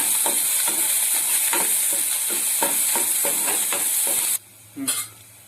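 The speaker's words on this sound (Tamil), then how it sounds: "பச்சை மிளகாய் லைட்டா ஃப்ரை ஆகணும்." Green chillies frying in a pan for honey chilli chicken, a loud continuous sizzle with rhythmic spatula scrapes, then the hiss suddenly drops away before one last clatter.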